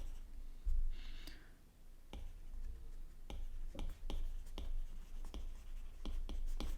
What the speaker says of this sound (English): let me write the pseudocode